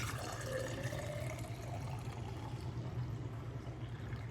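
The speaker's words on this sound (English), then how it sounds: "And I pour it in here." Freshly juiced celery poured into a 16-ounce juice glass gives a soft, close, steady trickle of liquid lasting a few seconds over a quiet low hum.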